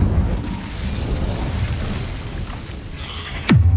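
A fire spell bursts in the game Hogwarts Legacy inside a cave, heard as a single sudden whooshing boom near the end, rising out of a steady low rumbling ambience.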